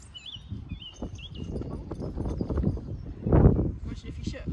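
Horse hooves clip-clop at a steady walk while a rider sits on the horse during untacking, a broad thumping burst near the end, with talk and birdsong in the background.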